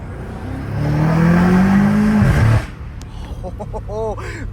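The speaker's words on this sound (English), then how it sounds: "Oh, the roar, bro. The roar is amazing." A BMW M5 Competition fitted with downpipes roars loudly under hard acceleration, the exhaust tone climbing steadily for about two seconds before cutting off, then settling into a quieter rumble with a few brief crackles near the end.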